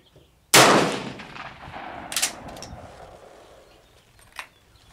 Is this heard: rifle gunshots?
yes